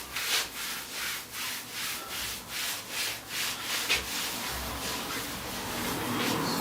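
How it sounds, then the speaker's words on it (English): Hands rub back and forth over a body during a qigong bodywork massage, making a close, steady swishing friction in an even rhythm of about two strokes per second with no talking. "So this is rubbing."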